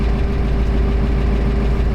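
A 1956 Ford Fairlane Sunliner convertible's 292 V8 with four-barrel carburetor idles steadily close by, a loud, even low rumble with a constant hum and no talk over it.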